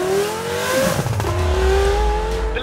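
A pre-LP Lamborghini Gallardo engine accelerating from a standstill in first gear. The note rises in pitch and grows louder, with a strong low rumble and a clear, steady tone. No voices are heard.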